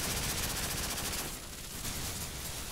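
Automated turrets firing in Call of Duty 4 zombie mode make a dense, continuous rattle of rapid gunfire. It is loud and steady, dipping briefly midway, and no talk is heard.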